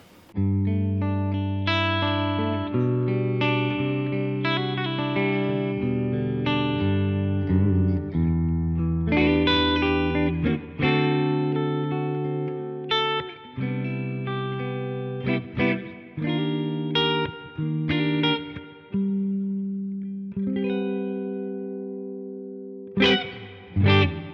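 Clean Les Paul-style electric guitar on the middle pickup, with a slightly brighter, balanced tone, strums chords and picks melodic lines for about twenty seconds, with brief pauses between phrases.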